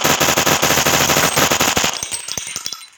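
A machine gun fires in the iGun Pro game app in a loud, rapid, continuous burst, then breaks into a few spaced final shots as it tails off.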